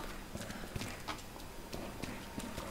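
Heavy running footsteps thud rhythmically in Resident Evil 2 Remake inside the police station, a quiet series of regular stomping impacts without talk.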